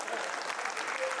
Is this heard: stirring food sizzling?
no